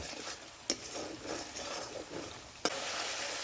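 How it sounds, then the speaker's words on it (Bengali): Spices, with salt, fry in a pan while a spoon stirs them, making a steady sizzle broken by two sharp metallic scrapes against the pan, heard up close without any speech. "এখন এই সমস্ত মশলাগুলোকে আরেকটু ভালোভাবে কষিয়ে নেব।"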